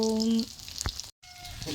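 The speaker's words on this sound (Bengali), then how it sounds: "এই দেখো, এখন মাছ ভাজছি।" Soft sizzling of fish frying in hot oil in a kitchen, brief and fairly quiet, broken by a short tone and a moment of silence.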